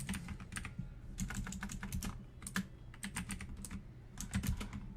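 Rapid bursts of keystrokes on a mechanical gaming keyboard from a home-built gaming rig, clacking in irregular clusters with short pauses, close and fairly quiet, no voices.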